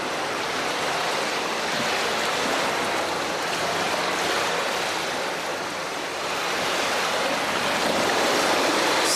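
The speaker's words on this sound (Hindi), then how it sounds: "एक बार फिर समंदर की मौजों का वैसा ही शोर शुरू हो गया" Sea waves roar in a continuous, dense wash of surf, swelling slightly toward the end with no voices.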